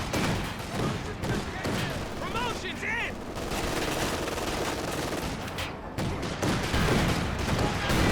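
Gunfire and bazooka blasts from the real-time strategy game Company of Heroes 2 in a 2v2 battle form a continuous dense barrage of shots and explosions that runs the whole time under steady voice commentary.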